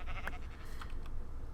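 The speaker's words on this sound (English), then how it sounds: "We'll smack a sheep." Sheep in a modded Minecraft game bleating after being hit, a couple of short, thin bleats over a constant low background hum.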